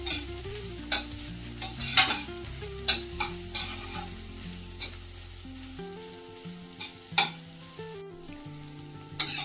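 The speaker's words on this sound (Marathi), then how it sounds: "आता छान गुलाबी रंगावर आपल्याला हा कांदा परतून घ्यायचा आहे." Chopped onion is sautéed in a pan for masala pav, a Mumbai street food. A soft sizzle runs under repeated loud clinks and scrapes of a spoon against the pan, and music plays in the background, with no talking.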